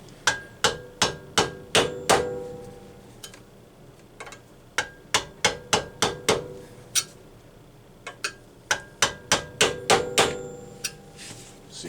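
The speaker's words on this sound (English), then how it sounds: "use one of my screwdrivers as a chisel" A screwdriver used as a chisel is hammered to widen a Husqvarna chainsaw guide bar so it fits a McCulloch SP-125. Sharp, close metallic blows land in quick bursts of four to six, with short pauses between them.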